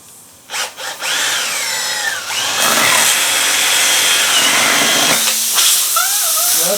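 A power drill with a tire plug reamer loosely chucked in whines at high speed while working a hole in a flat tire, starting with short stuttering bursts and then holding a long, loud, steady run.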